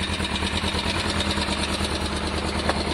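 A Kawasaki ER5 motorcycle engine idles steadily as it warms up without choke, a continuous close rumble with even firing pulses that stays level throughout.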